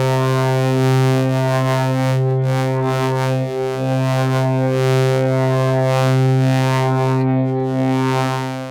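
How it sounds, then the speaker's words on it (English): A sustained Wavesplice wavetable synthesizer tone hums steadily, crossfading between sine and sawtooth waves, its timbre slowly shifting between smooth and buzzy as upper harmonics swell and fade. "it's using a wavetable sound to crossfade between just a sine wave and a sawtooth wave"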